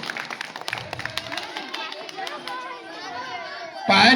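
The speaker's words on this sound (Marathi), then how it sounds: "टाळ्या वाजवा मुलांसाठी" A small audience at a neighbourhood housing-society children's game claps in scattered, uneven bursts amid lively chatter and children's voices, with a louder rush of clapping right at the end.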